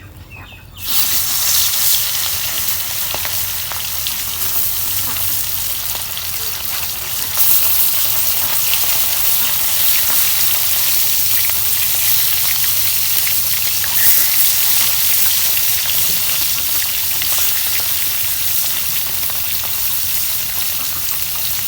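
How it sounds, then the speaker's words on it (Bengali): Rohu fish sizzles and crackles loudly in hot oil in a kadai. The dense frying hiss starts abruptly after about a second, then swells slightly louder near the seven-second mark and stays steady and close, with no talking. "তেল গরম হয়ে গেছে এখন আমি কড়াইতে মাছ দিয়ে দিব"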